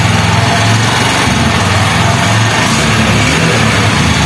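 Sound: BS6 Honda Shine motorcycle engine starting and running

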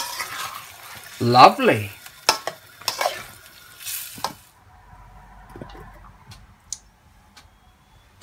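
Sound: stirring peas into chicken curry in a pan

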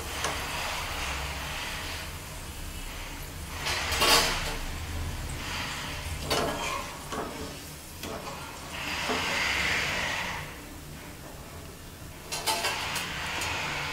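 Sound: potato lachha shreds frying in oil

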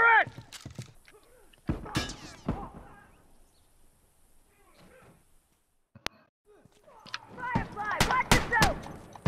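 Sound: turret firing in a video game

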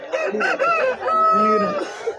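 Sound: rooster

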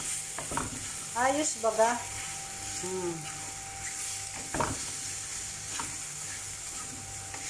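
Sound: stirring ampalaya with egg frying in a pan

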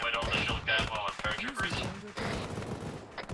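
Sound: gunfire in video game ArmA 3

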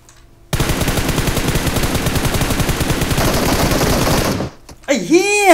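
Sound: gunfire in PUBG Mobile video game

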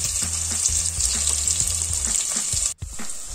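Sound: chopped onions frying in ghee in a pressure cooker

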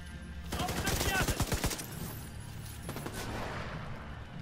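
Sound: enemy gunfire in the video game The Division 2

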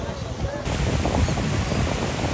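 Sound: rough sea waves at Kuakata beach

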